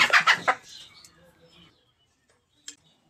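Chickens feeding on chopped cabbage and tomato give a quick burst of close clucks, then fall quiet apart from a faint later peck or click.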